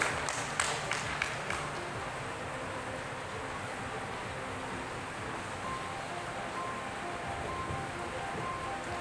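An audience at the WMAA moving-up ceremony applauds in a steady, dense wash of clapping that runs throughout, with a few sharper claps standing out at the start.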